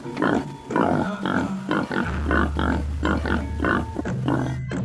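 A wild boar tied up in a tree squeals and grunts in repeated loud, harsh bursts, close by, with a low droning hum underneath for part of the stretch.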